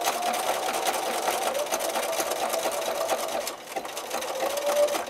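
Sewing machine zigzag stitching with backstitching to mend holes in bird and insect garden netting, a steady close whirring run with a brief dip in speed before picking up again.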